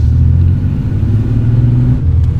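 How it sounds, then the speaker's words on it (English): A Porsche GT3 drives a wet, slippery mountain road above Monaco, its engine a steady, deep rumble close by with a constant roar of road and tyre noise and no clear rev changes. "The GT3 struggling for traction because it is wet and slippery."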